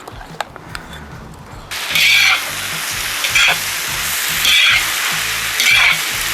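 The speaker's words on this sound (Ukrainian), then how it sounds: "Цибулю будемо смажити ще 3 хвилини" Close, steady sizzle of onions frying in a pan, swelling into several louder bursts as they're stirred, with occasional clinks and no speech.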